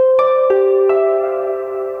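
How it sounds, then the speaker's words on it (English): Synthesized koto from Equator 2 played on ROLI LUMI Keys, a few plucked bright notes in quick succession, the last one ringing out and sustaining clearly with no talking. "So I really enjoy utilizing Equator 2 for sounds like this koto sound."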